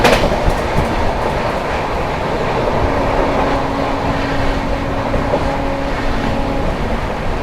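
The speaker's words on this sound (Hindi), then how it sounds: "स्किप कर रहा है चुनार जंक्शन और सामने से आ रही है Mumbai LTD Pataliputra superfast express" A Mumbai LTT–Patliputra superfast express train roars past at Chunar Junction with a loud, steady rumble of wheels and carriages, and a sustained horn tone sounds through the middle of the pass.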